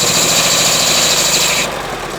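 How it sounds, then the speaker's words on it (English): A Citroen AX Sport petrol engine idles with the choke applied, a loud, steady, rough mechanical drone heard close up with no talk; its pitch and intensity drop slightly near the end. "The choke sounds crazy when it's applied."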